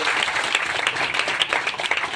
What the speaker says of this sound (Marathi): त्या माऊलीसाठी आपण एकदा टाळ्या वाजवल्या पाहिजे